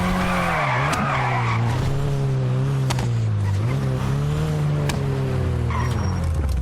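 Tires squeal and skid in a long, continuous slide from a car driven in GTA V Online, a steady loud screech with engine drone underneath and no talking.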